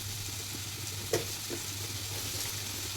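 Bottle gourd and chickpea curry sizzles softly in a pan, with a faint steady frying hiss and one brief knock of a spoon against the pan.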